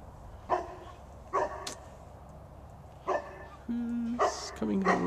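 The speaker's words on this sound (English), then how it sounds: "There's a puppy." Dogs outdoors give several separate barks and yips, fairly faint and from some distance, over a quiet background as people talk nearby.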